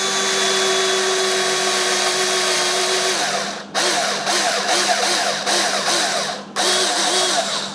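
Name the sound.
drilling a hole for the flange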